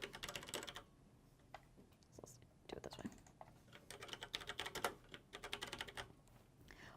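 Typing a headline on a computer keyboard: soft, close clusters of quick key taps in uneven bursts with short pauses, fairly quiet, with faint speech now and then.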